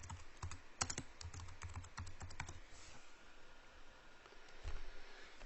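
A standard computer keyboard is typed on in a quick run of close, light key clicks, then quieter scattered taps over faint background hiss.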